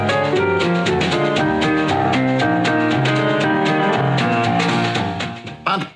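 A 1956 jazz recording plays loud and steady, a rolling piano boogie with rhythm backing, continuous until it drops away and cuts off near the end.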